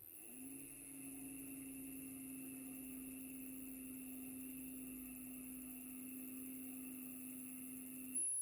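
Small electric motor running in a homemade free-energy device test rig, a steady faint whine with a constant hum and high tonal overtones that starts abruptly and holds evenly, with no talk over it.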